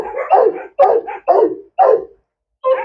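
A large, heavy-bodied dog barks at a stranger in four loud, close, separate bursts spaced about half a second apart, then a fifth begins. No one speaks over it.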